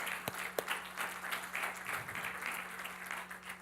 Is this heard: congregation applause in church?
yes